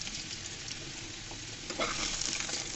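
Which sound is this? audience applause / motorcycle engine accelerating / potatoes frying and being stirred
potatoes frying and being stirred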